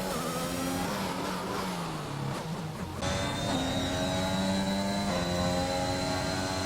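A race car engine on its out lap around Singapore in a racing video game drones at a steady, loud level, its pitch rising and falling as gears change, with a sharp shift midway.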